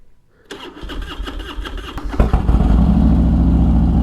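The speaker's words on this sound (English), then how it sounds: "So let's fire this bike up." A Harley-Davidson Dyna motorcycle engine cranks briefly, catches and fires up, then settles into a loud, steady, throbbing idle close by.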